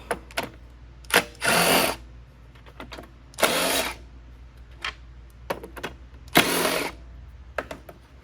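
A ratchet with a 5/16 socket works the bolts of the recoil starter on a Troy Bilt TB200 lawn mower, giving three buzzy bursts of rapid clicking between scattered light knocks and handling noises, close by.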